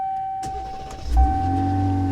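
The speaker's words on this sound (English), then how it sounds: "Let's fire it up real quick." A click and a short whir, then a 2025 Ram Rebel pickup's Hurricane twin-turbo six-cylinder engine catches on a cold start and settles into a low, steady idle with a constant high electrical whine.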